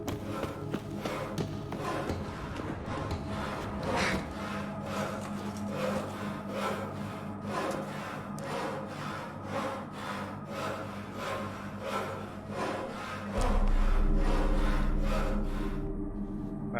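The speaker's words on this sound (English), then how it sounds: "Apparently someone sawn some wood somewhere." Repeated back-and-forth sawing of wood in The Witcher 3, a steady rhythmic rasping that runs through the whole stretch under game ambience, with a low rumble swelling near the end.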